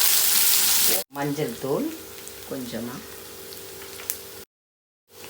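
Chopped onion hits a hot pan for a fenugreek greens stir-fry: a loud sizzle at first, then a softer frying hiss continues under a voice speaking.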